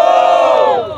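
A dense, loud crowd roars and cheers at a rap battle, a sustained wall of shouting voices that fades slightly at the end.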